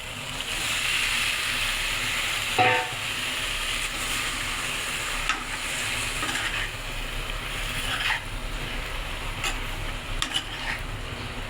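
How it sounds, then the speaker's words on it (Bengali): Fish being poured slowly into frying masala in a pan, a continuous close sizzle with scattered sharp clinks and pops and a few louder splashes as the pieces land. "এবারে আমি আস্তে আস্তে করে মাছগুলো ঢেলে দেবো"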